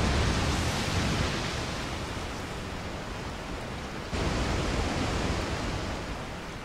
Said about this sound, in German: Das ist der sogenannte Wasserfall